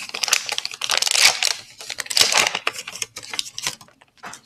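Insulin pump cartridge packaging for a t:slim pump being unwrapped by hand, giving close, loud crinkling and tearing bursts that come in irregular clusters across the stretch, with no talking.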